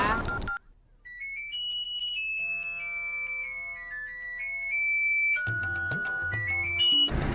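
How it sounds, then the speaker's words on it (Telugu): A phone ringtone plays an electronic melody, clear and fairly close, with no one talking over it. "ఫోన్ ఎత్తరా"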